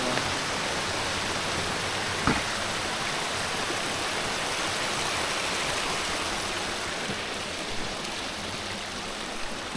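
Steady broadband rush of flowing water from a small roadside waterfall near Cloyne, Ontario, continuous and fairly close, with a brief knock partway through.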